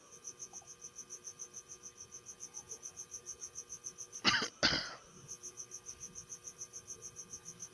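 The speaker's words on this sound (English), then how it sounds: "do you ever hear the crickets?" Crickets chirp in a steady, even pulse at night, soft but clear, interrupted midway by two loud nearby coughs or throat clearings before the rhythmic chirping resumes.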